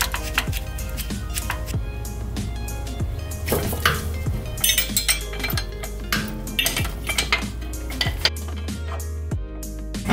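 Metallic clinks and scrapes of wrenches and bolts as the drive shaft of a BMW E30 is unbolted from the differential, with repeated sharp taps and ratchet-like rattles close up, no talking.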